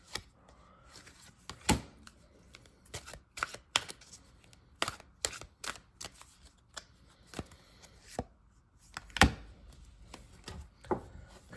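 Tarot cards being shuffled by hand in quick, crisp bursts of riffling and slapping, close and fairly quiet, with short pauses between each round and no talking.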